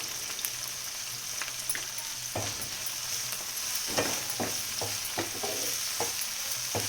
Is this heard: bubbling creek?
no